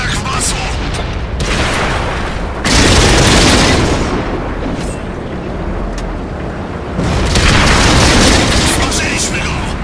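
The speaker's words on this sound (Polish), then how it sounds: "Strzelają do nas!" Tank cannon fire and shell explosions in the World of Tanks video game, loud booming blasts in two heavy bursts with rumbling noise between them.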